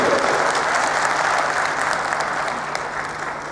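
An audience clapping at a public gathering, a steady, loud patter of many hands that fades slightly toward the end, with a faint hum running underneath.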